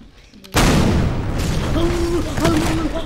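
A loud boom from buildings being blown up in a video game neighbourhood, bursting in suddenly after a quiet moment and rumbling on, with a second blast and faint game tones following.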